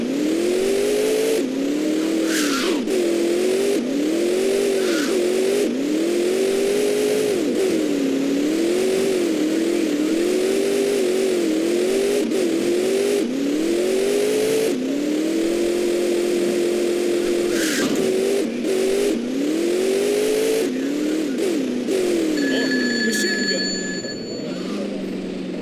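A police car in the top-down game GTA 2 drives and revs, its synthetic engine tone rising and falling in repeated sweeps as it accelerates and eases off, loud and continuous, with brief tonal blips near the end and no talk.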